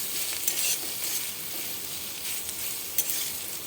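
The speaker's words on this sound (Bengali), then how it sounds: "আমি তেলে কালো জিরে দিয়ে রসুন, পেঁয়াজ কুচি আর লঙ্কা দিয়ে আমি ভাজছি।" Steady, loud sizzling of garlic, chopped onion, chilli and black cumin frying in oil, with a few faint scrapes of stirring and no voices.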